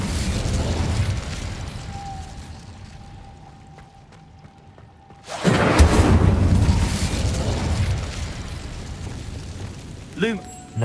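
An Incendio fire spell cast in Hogwarts Legacy erupts midway as a loud, sudden whoosh of flame that roars and crackles for several seconds after a quieter stretch, with voices and game sounds around it.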